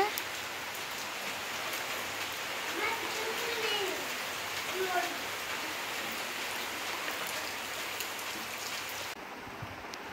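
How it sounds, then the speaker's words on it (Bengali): Heavy rain pours down in a steady, dense hiss that fills the whole stretch, with a few faint bird calls rising through it midway before the downpour briefly thins at the end. "খুব জোরে বৃষ্টি এসে গেছে।"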